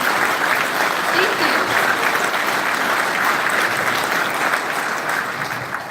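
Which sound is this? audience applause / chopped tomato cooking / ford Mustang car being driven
audience applause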